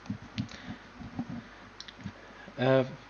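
A keyboard is typed on during a group discussion, giving scattered light clicks in quick clusters, followed by a short burst of a voice near the end.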